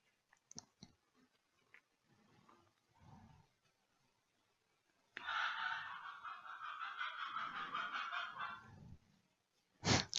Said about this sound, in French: il y a le coq qui chante